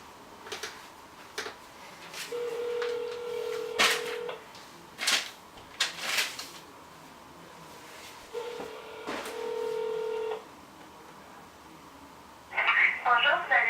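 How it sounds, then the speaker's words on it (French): Ringback tone of an outgoing phone call to a home line repeats twice as long steady tones, with clicks and handling noise between and a brief burst of other sound at the end. "Là on appelle chez lui."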